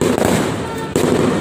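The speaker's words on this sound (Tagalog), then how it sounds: "May mga fireworks dito." Loud New Year fireworks crackle and pop continuously in a dense, close barrage, with one brief dip before the noise surges back.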